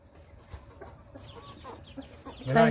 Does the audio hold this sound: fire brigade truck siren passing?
no